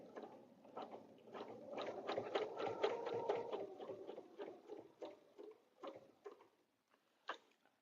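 A sewing machine quilts a table runner with a steady run of rapid close stitching that speeds up and slows, then breaks into short separate bursts and single stitches toward the end.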